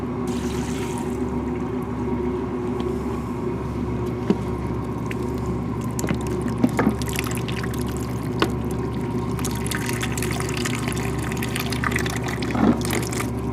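Water runs and trickles steadily for a long stretch as a cyanotype print is rinsed in a lab, with occasional small splashes and clinks close by.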